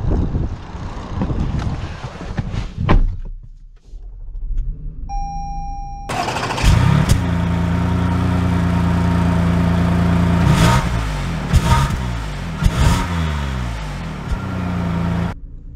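A 2022 Toyota Highlander L starts up and drives off, its steady engine and road rumble rising after a brief chime, loud and continuous through the rest of the clip.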